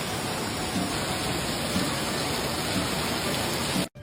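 Heavy rain falls in a steady, dense hiss that fills the space without pause, loud and close, with no voices, until it cuts out briefly at the very end.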